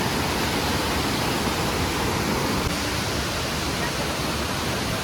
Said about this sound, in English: And that is Lodh waterfall,